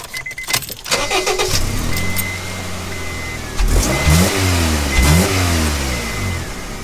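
A car engine revs hard through a newly fitted loud exhaust, rising in pitch twice in quick sweeps, close and rumbling, with no talking.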